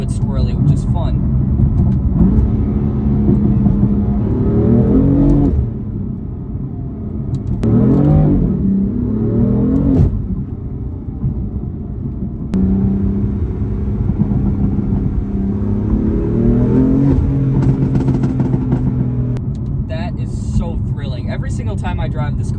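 A BMW E46 M engine pulls and revs hard while driving, its steady rumble rising and falling with throttle through the whole stretch, with someone talking over it much of the time.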